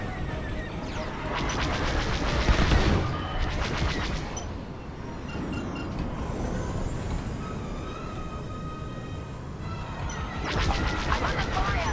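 Sustained enemy fire pounding a starfighter in Star Wars Squadrons, played on a Steam Deck: dense rattling bursts and crashing impacts over a constant roaring engine drone, heaviest early and again near the end.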